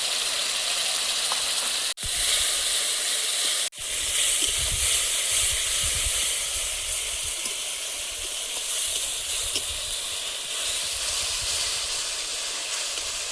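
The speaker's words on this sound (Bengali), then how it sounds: "ঝোলটা ফুটছে, এখন মাছগুলো দিয়ে দেবো।" A spiced curry gravy of ground onion, ginger and garlic paste with tomato, turmeric, salt and chili powder sizzles and bubbles hard in a pan, ready for fish, a steady close hiss with two brief dropouts.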